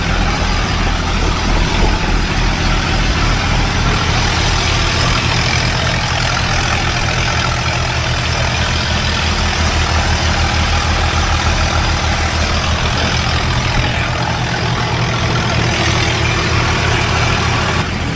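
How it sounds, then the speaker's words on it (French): Loud, steady drone of boat engines running close by on water in Cambodia, a deep continuous rumble with a constant mechanical hum and no pauses. "Voilà, vous avez pu voir les moteurs."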